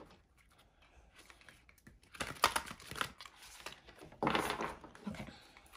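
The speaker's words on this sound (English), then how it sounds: "So I'm gonna give it a good shuffle." A deck of oracle cards is shuffled by hand for a pick-a-card reading: soft papery riffling comes in two short bursts against quiet room tone.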